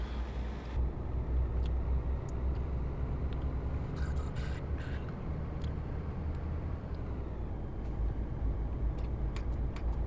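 A truck driven through Slovakia in Euro Truck Simulator 2, with a steady low engine drone and road rumble running continuously at a fairly even level, alone without talk.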